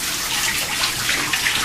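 Shower water running during bath assistance, a loud, close, continuous spray hissing steadily throughout, with no voices.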